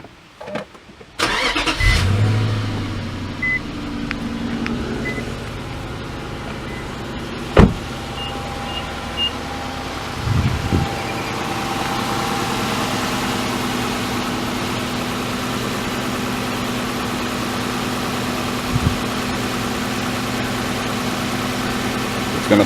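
A 2008 Infiniti M's engine cranks and starts after a few mechanical clicks, then settles into a steady, fairly loud idle with occasional small knocks and thumps nearby; no talking.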